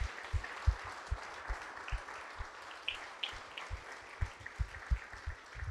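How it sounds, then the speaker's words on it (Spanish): Church congregation applauding during a Spanish-language worship service, a fairly soft spread of claps with scattered sharper hand strikes standing out, steady across the whole stretch with no talking. "Dale un aplauso fuerte al Señor."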